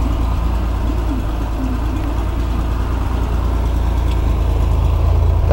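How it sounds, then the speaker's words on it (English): Steady engine idle from a Striper car with water dribbling from the exhaust, a loud continuous low rumble close by with no talking. "there's the Striper motor, sounding good."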